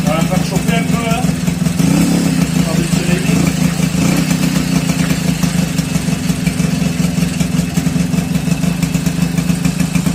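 Peugeot 102 SP moped engine idling while warming up just after a cold start, a loud, close, continuous buzzing putter with a steady rapid beat, while someone talks over it.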